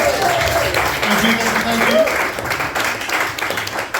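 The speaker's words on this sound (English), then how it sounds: "Big round of applause, please." Steady applause from a crowd, a continuous wash of clapping that holds at an even level throughout.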